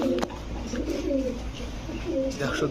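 Racing pigeons in a pigeon shop, including red-checkered birds, give soft, repeated rolling coos close by, with several overlapping calls and faint chatter in the background.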